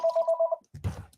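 A telephone rings in a quick run of evenly spaced electronic trills, then stops, followed by a short burst of rustling handling noise.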